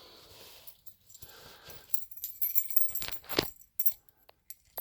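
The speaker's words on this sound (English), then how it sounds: "Grab the keys." Car keys for a 1967 Thunderbird jangle in a quiet garage, a few faint metallic clinks and rattles in short irregular bursts that grow busier toward the end.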